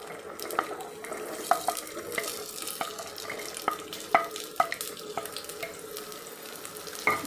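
Green beans are tossed into hot oil in a pan and stirred, giving a steady soft frying hiss with scattered scraping clinks of a spoon against the pan throughout; no talking.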